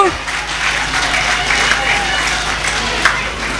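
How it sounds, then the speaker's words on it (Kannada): Audience clapping at a primary school student talent award ceremony in Malar, Pavoor, Mangaluru, a broad, sustained patter of many hands with a voice talking over it. "ಎಲ್ಲರೂ ಜೋರಾಗಿ ಎಲ್ಲರಿಗೆ ಒಮ್ಮೆ ಚಪ್ಪಾಳೆಯನ್ನು ತಟ್ಟುವುದು"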